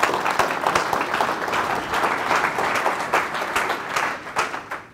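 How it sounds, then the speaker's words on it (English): An audience at a banking talk gives a sustained round of applause, a dense, even wash of clapping from many hands that tapers slightly at the end. "have a round of applause."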